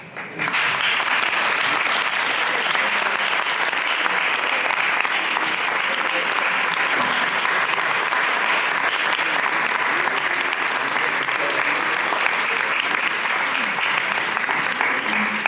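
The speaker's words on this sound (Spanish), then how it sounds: "un aplauso a todos" A full room claps at a magazine launch presentation, sustained crowd applause that starts sharply and holds steady and loud for a long stretch, a dense wash of many hands with murmurs faintly underneath.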